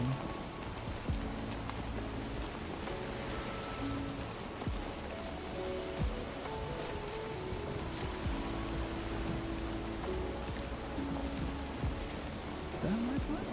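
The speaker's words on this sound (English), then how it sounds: "Rain." Steady rain falls throughout, a constant dense patter on surfaces with no break, loud and close, alongside scattered tonal sounds in the background.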